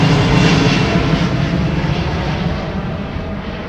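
A jet airliner taxiing at London Heathrow Airport, its engines a loud, steady roar close by that eases off slightly toward the end, with no talk over it.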